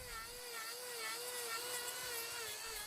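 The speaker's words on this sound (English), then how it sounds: "we picked up our trusty angle grinder and set about fixing it" An angle grinder trims a cow's hoof while the foot is held up in a crush, giving a steady, loud, high-pitched whine that runs unbroken throughout.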